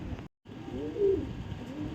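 Pigeons cooing, with a soft nearby coo rising then falling over low rustling, broken by a brief gap of silence.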